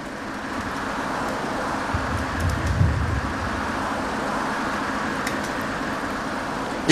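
A bus engine rumbling steadily in the OMSI bus simulator on a Gothenburg route, a continuous low drone with a brief swell in the middle and no talk.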